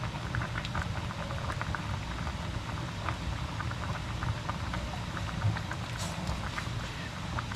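Pot of fish stewed in tamarind (pangat sa sampalok) simmering steadily, a dense bubbling patter with soft pops spread evenly throughout, no voices.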